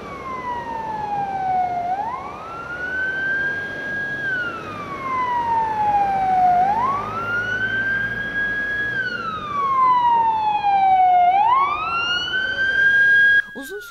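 A loud 112 emergency ambulance siren in Turkey wails in long rising and falling sweeps, repeating steadily over a low rumble of stopped traffic.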